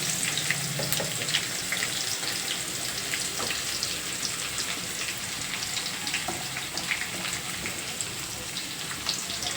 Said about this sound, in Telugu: ఈ ఉల్లిపాయ ముక్కలు కూడా బాగా గోల్డెన్ బ్రౌన్లో వేగిపోవాలండి